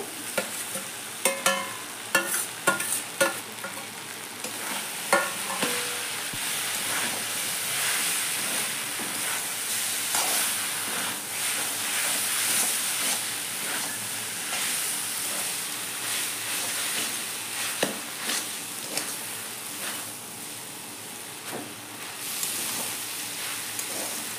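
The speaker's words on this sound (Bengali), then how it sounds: "এখন চিকেনটা দিয়ে ভালো করে মিক্স করে নেব।" Chicken being tossed and stirred into chowmein in a hot pan, with a steady loud sizzle and hiss and bursts of clattering stirring near the start, continuing throughout.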